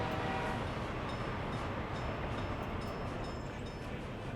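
A long train rolls by in the Soviet Republic city-building game, a steady faint rumble of rail cars with no distinct horn or clatter, heard alone without talk.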